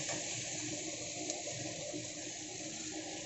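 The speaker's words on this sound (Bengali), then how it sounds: "এবার আমি জল দিয়ে দেবো।" Water poured into a pan of sautéed vegetables for tilapia curry, a steady continuous rushing pour, fairly soft and unbroken.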